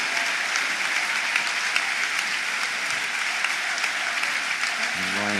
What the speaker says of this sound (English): The goal scorer gets warm applause for his performance.